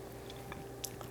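Chewing a mouthful of maple honey roasted peanut butter, a few soft, close, faint crunchy bites and squishy mouth sounds over a quiet background.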